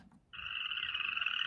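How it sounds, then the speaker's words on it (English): A plastic DreamSky sound machine plays its crickets nature sound: a steady, high, buzzing trill that starts after a brief pause and carries on evenly at modest volume with nothing else over it. "Crickets."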